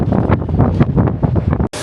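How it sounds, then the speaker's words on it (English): Strong gusty wind on the outdoor deck of a cruise ship buffets the microphone in a loud, continuous rumble, cutting out abruptly near the end. "We made it outside, and it's windy."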